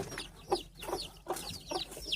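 A hen clucks with her chicks close by: a short series of low, throaty clucks in an uneven rhythm, with thin high peeping from the chicks mixed in.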